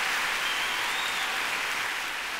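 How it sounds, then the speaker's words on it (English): Audience applause at a solar-industry award ceremony, a steady even wash of clapping held at moderate volume throughout, with no voices over it. "You can already hear the applause"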